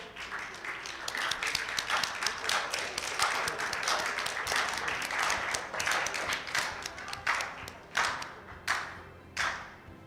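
An audience at an award presentation claps for a plaque recipient stepping on stage, steady crowd applause thinning into a few scattered, distinct claps near the end.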